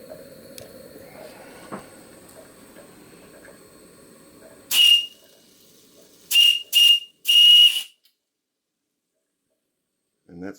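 Steam whistle on a Stuart S50 mill model steam engine running on live steam, sounding four shrill blasts, one then a quick pair and a longer final toot, after a stretch of low hissing and bubbling from the boiler.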